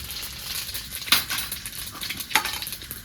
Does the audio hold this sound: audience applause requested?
no